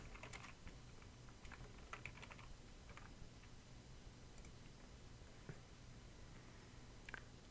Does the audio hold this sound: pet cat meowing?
no